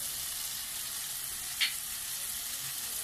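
Spices sizzle in hot oil in a pan for baingan bharta, a steady close hiss with one brief sharper crackle near the middle.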